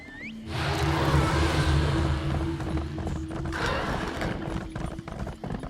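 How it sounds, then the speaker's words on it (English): Horse hooves clip-clop in a steady rhythm over hard ground in The Elder Scrolls Online, with a low mechanical hum and creaks in the background. "riding your horse around this town's a little bit precarious with all these walkways"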